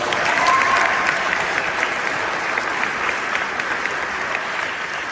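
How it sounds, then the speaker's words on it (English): A keynote audience at WPC26 gives a round of applause, with broad, even clapping from many hands that stays loud and continuous from start to finish. "If we can give them a round of applause."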